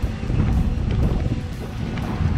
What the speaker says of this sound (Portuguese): Soltamos a poita, subimos as velas e estamos navegando pro Yacht Club.